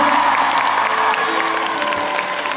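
A concert crowd at a show in Seoul applauds and cheers loudly and continuously, a dense wash of clapping and shouts filling the hall.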